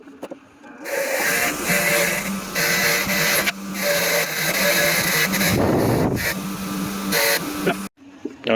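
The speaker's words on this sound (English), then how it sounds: "I always like to take dirty fasteners that I'm reusing, hit them on the wire wheel, clean them up a bit" A bench wire wheel scrubs dirty, reused bolts from a 17-year-old Jeep WJ starter job, giving a loud, steady abrasive whir with brief dips and a surge of grinding near the end before cutting off.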